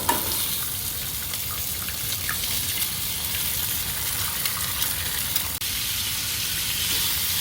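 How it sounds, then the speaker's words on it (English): Bacon sizzles and crackles in a pan at a flooded campsite during stormy weather, a steady close hiss with small pops and no talking. "There's some bacon on here."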